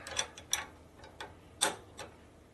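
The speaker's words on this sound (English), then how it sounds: "Try the breaker bar on there." A ratchet breaker bar clicks in short, quiet bursts of ticking as it tightens a bolt on a Harley motorcycle with an S&S 113ci Evo motor, with small gaps between strokes.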